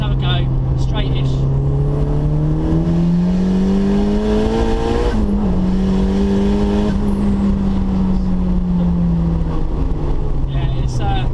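A modified turbocharged 364bhp Mazda MX5 accelerates hard, its engine note climbing through the revs in a loud, close rising drone with a brief dip at a gear change before pulling up again, heard from inside the car.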